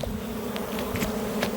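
Honey bees from a swarm hum steadily inside a hive, a continuous close buzzing drone with occasional louder individual bees passing near.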